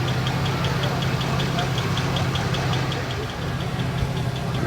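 A classic luxury car idles at the San Marino Motor Classic concours show, a steady low engine hum with a fast, regular ticking pulse running through it, quiet and smooth under faint outdoor background noise.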